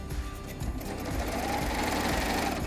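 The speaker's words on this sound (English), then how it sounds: "At our machine, we're going to just start stitching." A Triumph serger runs a 4-thread overlock stitch along fabric, its fast steady mechanical whirring and rapid needle chatter continuous and close for the whole stretch, with no talking.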